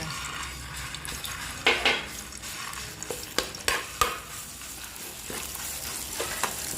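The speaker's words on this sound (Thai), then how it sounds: "ผัดให้พอหอมนะคะ พริกแกงหอม" Curry paste stir-frying in pork lard in a pan, a steady sizzle punctuated by a cluster of sharp utensil scrapes and clanks against the pan, close and clear with no voices.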